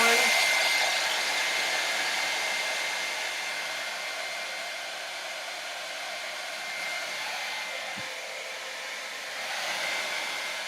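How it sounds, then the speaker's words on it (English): A handheld hairdryer blows steadily on paper artwork, a continuous close whoosh that holds for the whole stretch with slight dips in loudness and no talking. "I'm going to get my hairdryer going."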